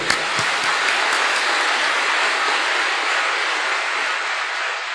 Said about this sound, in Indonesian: Tepuk tangan untuk DPP.